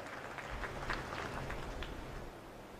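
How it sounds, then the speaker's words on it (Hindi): Loud applause from an audience at a Ramayana conclave inaugural ceremony with the President in attendance, a dense, steady wash of clapping that carries on evenly from start to finish with no talk over it. "आप सब इस गौरवशाली क्षणों को साक्षी मानते हुए जोरदार तालियों से इन गौरवशाली पलों की शोभा बहुगुणित कीजिए"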